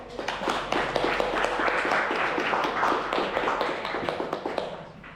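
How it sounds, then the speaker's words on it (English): Audience at a Bali developer meetup applauds, a dense burst of clapping that holds steady for several seconds before tapering off at the end, with no talk over it. "Big round of applause again for Bob."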